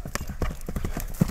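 Hooves of a horse being walked for buyers at the Bazar-Korgon horse market in Kyrgyzstan clop in a quick, uneven rhythm, fairly faint and close.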